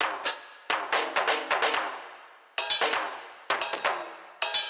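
Chord loop built with FL Studio's chord progression tool, arpeggiator off: bright synth chords strike in short repeated bursts with decaying tails and small gaps between groups, heard alone at moderate level.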